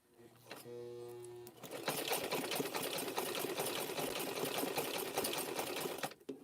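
A sewing machine hums briefly and then runs loudly and continuously, sewing rope into a chain, before it stops abruptly at the end.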